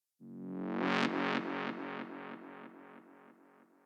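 A bright buzzy synth note swells up, then repeats in fading pulses as a long reverb tail trails away.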